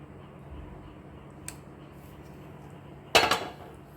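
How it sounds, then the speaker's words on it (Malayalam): Cooked mango halva is moved from the pan into a dish. A quiet background gives way to a brief tap, then a single sharp utensil clatter against cookware near the end. "ഇപ്പം നമുക്കിത് ഈ പാത്രത്തിലായിട്ട് മാറ്റാം"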